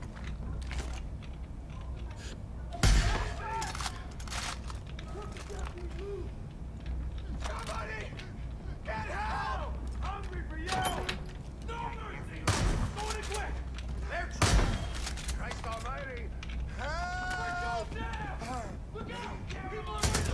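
Far Cry 5 gunfire, with repeated sharp single shots spread across the stretch and louder cracks at irregular intervals, mixed with game effects and a voice talking at times.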